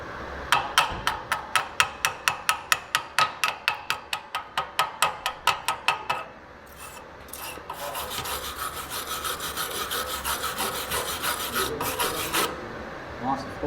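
A small hammer chips slag off a stick-electrode weld bead on thin sheet metal. About twenty quick, sharp metallic taps come in a steady rhythm, then give way to several seconds of continuous rasping scraping, heard up close without talk.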